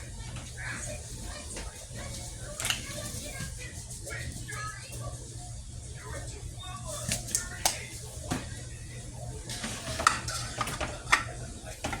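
Seasoned rice for chicken burritos is stirred in a pan with steady scraping and a faint sizzle close by, while a person talks over it.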